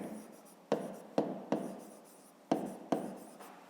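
Pen writing on paper during a fifth-grade maths exercise, heard as several short, soft scratching strokes in separate bursts against a quiet background.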